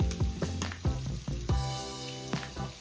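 Oil sizzles and crackles loudly in a pan frying shrimp for escovitch, with sharp popping spurts scattered through a steady frying hiss.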